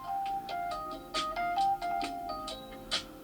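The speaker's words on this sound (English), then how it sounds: "That will be my telephone, or mobile phone I should say." A mobile phone rings with a repeating electronic ringtone melody, several short tonal bursts in a steady pattern, fairly close and clear, heard in a room where a guitar pedal is being reviewed.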